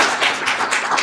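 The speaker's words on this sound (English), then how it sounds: "Round of applause." Short burst of audience clapping for a speaker at a DrupalCamp LA talk, a few close, distinct claps with uneven rhythm rather than a full ovation.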